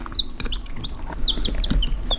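Chickens cluck and chirp in short, scattered calls through a hot day while seeking refuge in cold wet grass after sprinklers, with a steady low background rumble.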